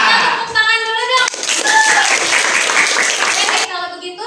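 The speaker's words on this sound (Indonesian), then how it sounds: "Kita tepuk tangan dulu dong." Classmates clap together in a classroom to honour a newly chosen student council leader, a dense burst of hand claps from about 1.3 to 3.6 seconds, framed by children's voices before and after.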